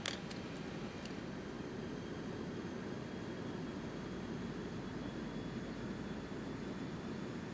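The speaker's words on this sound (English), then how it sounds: "There goes our slats for flaps 1." Slats extending on an Airbus A320 in a flight simulator, a steady low mechanical hum under continuous cockpit and airflow rumble, with a few faint clicks at the start.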